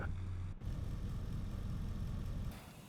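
A BMW X6M's 5.0 V8 idles in NFS Unbound, a low, steady rumble with a faint shift midway and a slight drop near the end, no voices over it.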